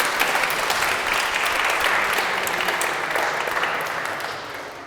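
A conference audience at a Google Analytics 4 migration talk gives steady, dense clapping that stays full for several seconds, then begins to thin and fade.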